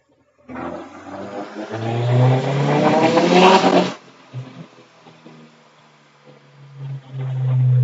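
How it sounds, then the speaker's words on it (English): Turbocharged Legacy GT engine with a rotated turbo and AMS intake manifold on flex fuel, free-revving on a dyno: a loud rising roar that holds for a few seconds, cuts off abruptly, then settles into a low idle before revving again. "I didn't realize the test had already started, so I just free-revved that"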